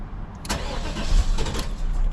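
An LT1 V8 in a Caprice-type car cranks and fires, a loud close burst of starter churning followed by the engine catching into a rough rumble.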